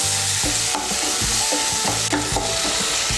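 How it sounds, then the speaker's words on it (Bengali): A ginger and green chilli paste frying in oil hisses and sizzles steadily while a spoon stirs it in quick, repeated scrapes, close and clear. "আদা বাটা আর কাঁচা লঙ্কা বাটাটাকেও মিশিয়ে নেব তেলের সঙ্গে।"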